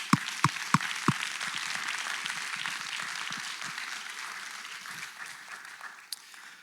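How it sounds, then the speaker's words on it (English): A graduation ceremony audience gives a round of applause, opening with a few loud individual claps and then settling into steady, moderately distant clapping that slowly thins out. "Let's just give them another round of applause."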